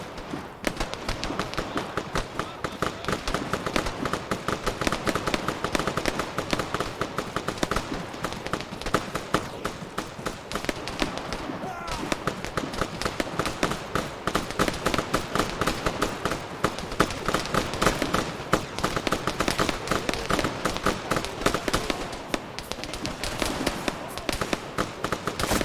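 Continuous dense crackle of rapid gunfire in the military shooter Arma 3, sharp overlapping shots with near and distant rounds and whizzing bullets running steadily throughout, loud and unbroken.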